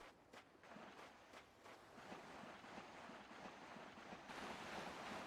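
In the video game Yakuza 3, ocean waves wash and surge in a soft, steady rush that grows slightly louder toward the end, with no talking.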